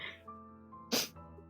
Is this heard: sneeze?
yes